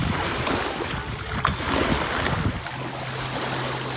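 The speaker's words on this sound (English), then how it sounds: "I mean, this is a small little beach." Small waves wash onto a little seaweed-covered beach, a steady rushing surf with soft breaking swells and wind noise heard close by.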